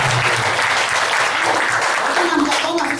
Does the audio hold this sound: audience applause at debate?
yes